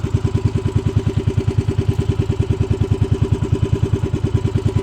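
A motorcycle engine runs roughly at idle, a steady loud rapid chugging pulse with uneven clatter, close by and alone for the whole stretch.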